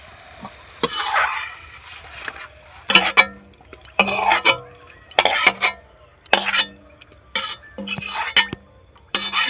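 Fried carrots, beans, capsicum and peas being scooped out of a pan, with a steady run of sharp metal spatula scrapes and clinks against the pan, spaced through the clip over a faint background sizzle.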